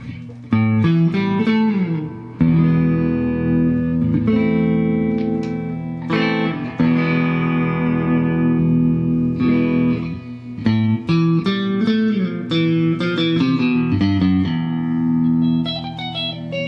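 An electric guitar plays through a Fender Tone Master Twin Reverb amp with reverb added, loud chords and picked notes ringing out with a lingering wash of echo.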